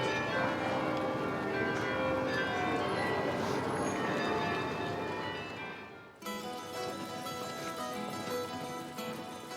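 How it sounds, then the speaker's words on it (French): Carillon bells in Bruges ring out a melody, many tuned bells sounding together and overlapping in a dense, resonant wash, with a brief break partway through. "Ce que vous entendez maintenant, c'est le carillon."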